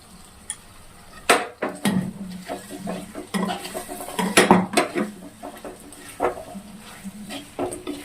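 Raw prawns tossed into a pan with onion and ginger-garlic paste for a Telugu-style prawn fry, stirred with a metal spatula: repeated close scrapes and clinks against the pan over a soft sizzle, no talking.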